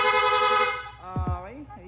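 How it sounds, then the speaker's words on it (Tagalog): A loud, sustained electronic motorcycle horn blares, then breaks into a quick rising-and-falling warble, close and piercing. "Tapos rapid horn."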